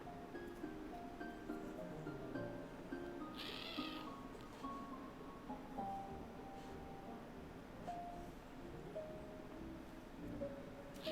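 A cat meows repeatedly, several short clear calls close by, over a soft background of game music with faint rustling between the calls.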